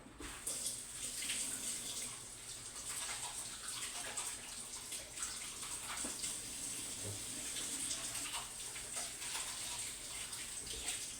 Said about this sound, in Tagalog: Maghugas muna ako ng kamay.